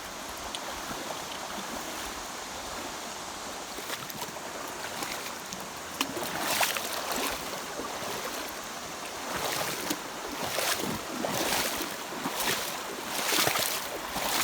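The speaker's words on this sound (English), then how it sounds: "Crossing the beautiful Linville River" The Linville River rushes through boulder-strewn Linville Gorge, a steady broadband roar of flowing water close by, with a few brief surges and splashes rising above the constant wash.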